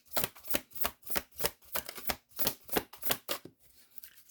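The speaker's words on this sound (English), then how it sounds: "I'm still trying to get them shuffled or break them in for shuffling." A large deck of cards shuffled in a quick, steady rhythm of about a dozen riffling bursts, close and crisp, tapering into softer handling at the end.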